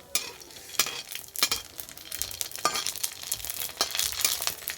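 Puchka (pani puri) puffs frying in hot oil in a pan, with a steady crackling sizzle broken by sharp stirring and scraping bursts close by, no voices.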